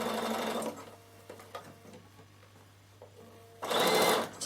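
A sewing machine runs a second row of stitches along a wool felt door draught stopper, the foot's edge guided on the inside; two bursts of rapid, steady stitching are separated by a quiet pause, with no talk.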